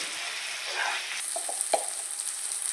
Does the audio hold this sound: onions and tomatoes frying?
yes